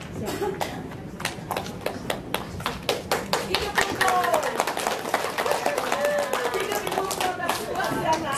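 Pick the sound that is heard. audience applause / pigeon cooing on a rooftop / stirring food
audience applause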